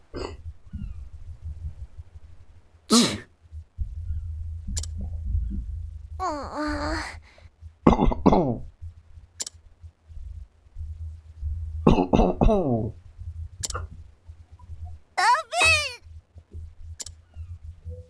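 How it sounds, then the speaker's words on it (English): A woman coughs hard in Octopath Traveler, several separate harsh bursts spaced through the stretch over a low game music bed, with breathy gasps between them. "She's coughing so hard she can barely breathe."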